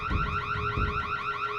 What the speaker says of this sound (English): startled by the camera's alarm